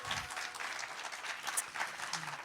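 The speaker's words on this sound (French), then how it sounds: "Ça s'applaudit." Clapping from the audience at a national slam poetry final, announcing a trip to Quebec as the top prize: steady, fairly faint applause from a crowd, continuous throughout with a few brighter claps and calls.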